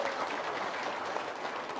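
An audience claps together in a continuous dense burst at a parenting talk, an even wash of hands throughout with a slight rise right at the end and no speech over it.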